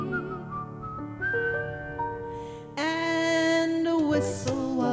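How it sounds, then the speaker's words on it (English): Someone whistles a bright, cheerful tune with clear sustained notes and gliding pitch changes, loud and close with no other sounds. "And whistle while you work."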